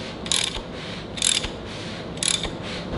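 Timing chain and sprocket on a 440 Mopar stroker engine turned by hand after lubrication, giving three separate bursts of bright metallic clicking and ratcheting, evenly spaced about a second apart, close by and with no talking.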